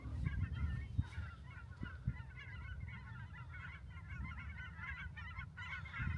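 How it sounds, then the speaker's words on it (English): A flock of birds at a distance, many overlapping honking calls continuously over a low rumble of wind. "We made it to ground zero and there's birds everywhere."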